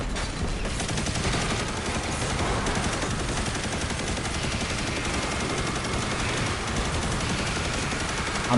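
Continuous rapid automatic gunfire from the video game Destiny 2, a steady dense stream of shots held without pause for the whole stretch, loud and unbroken with no talking.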